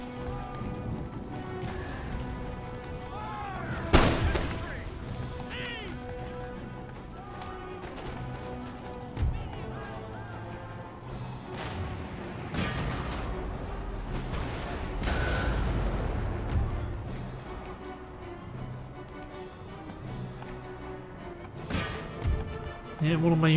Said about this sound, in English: Time to hit them with canister shot.